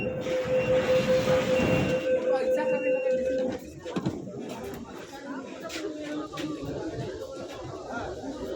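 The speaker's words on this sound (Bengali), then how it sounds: "বসে আছি এই যে শিয়ালদা মেট্রো স্টেশনে ট্রেন আসবে, তার জন্য অপেক্ষা করছি।" A metro train at Sealdah metro station rumbles and hums through the platform, with a whining tone early on and a busy wash of people talking nearby.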